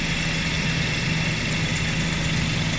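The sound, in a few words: Suzuki Every Wagon DA64W idling with aircon compressor clutch engaged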